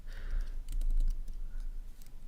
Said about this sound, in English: I really hope the typing isn't too loud